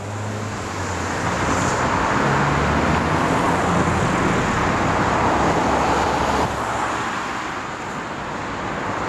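Heavy road traffic on the narrow uphill Conwy Cob bridge rumbles and hisses continuously and loudly, with vehicles passing close by and no voices.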